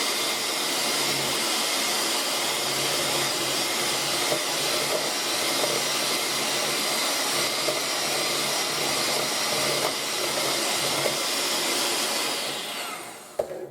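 Electric hand mixer whirring steadily on high speed through cookie batter for snowball cookies, a loud continuous drone that holds for over twelve seconds before cutting off at the end.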